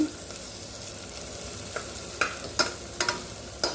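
Vegetables for barnyard millet kuthiraivali kichadi sauté in a pressure cooker, a soft, steady sizzle joined by a series of sharp spoon scrapes and stirs in the second half.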